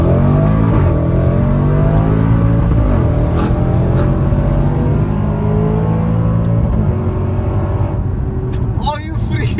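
A very loud SUV engine revving and accelerating close by, a deep throaty roar with rising and falling pitch sweeps and shifts, sustained throughout with a few light rattles near the end.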